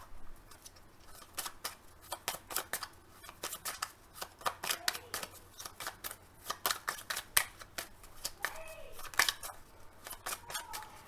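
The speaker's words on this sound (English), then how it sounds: "while I'm shuffling this" Tarot cards are shuffled by hand in quick irregular riffles and slaps, crisp close-up bursts of card noise with brief pauses between them, no talking over the sound.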